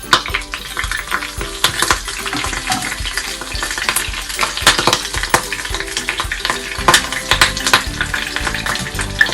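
Fish fries in oil on a banana leaf with curry leaves in a hopper pan, a steady crackling sizzle with frequent sharp pops and occasional scraping of a utensil, close and loud.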